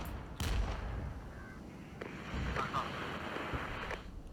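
Cover fire in the tactical war game Regiments: faint, distant gunshots and a few sharp reports scattered over a low rumbling background.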